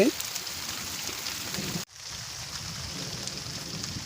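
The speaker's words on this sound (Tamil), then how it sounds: "இப்படி மழை பெய்யுது" Steady rain falls just outside an open doorway, a continuous broadband hiss of drops hitting surfaces, briefly cut at one point before resuming at the same level.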